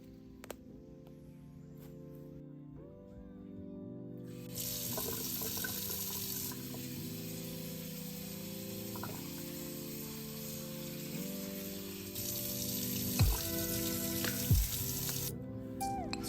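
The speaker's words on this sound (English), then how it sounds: "So we poured hot water over it, let it sit all night." Hot water pours from a kettle over tea ingredients in a kitchen, a steady hissing stream that swells louder for several seconds, eases, and then rises again, with background music underneath and no talking.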